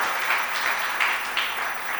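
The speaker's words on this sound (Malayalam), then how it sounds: "അവനൊരു കയ്യടി കൊടുക്കണ്ടേ എല്ലാവരും?" Applause from an audience at a Malayalam literary festival held at a college, a steady broadband patter of many hands lasting the whole two seconds with small surges, no talk over it.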